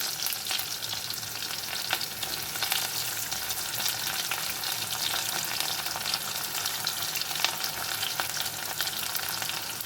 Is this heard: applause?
no